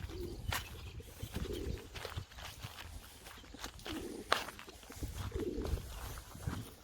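Pigeons, including a stray Matbaacı pigeon, coo softly and intermittently at feeding time, with low throaty calls amid shuffling footsteps and faint rustling nearby.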